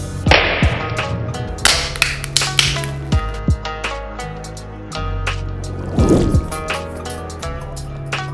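Water poured and splashed onto a Redmi Note 7 Pro phone with splash-resistant nano coating: close, sharp drips and splatters in irregular bursts, mixed with wet slaps and trickling throughout.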